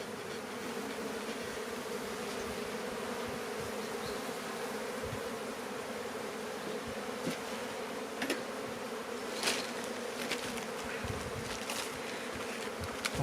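Honeybees buzz in a dense, continuous hum around an open beehive during an inspection, with occasional louder passes of single bees close to the microphone and no talking.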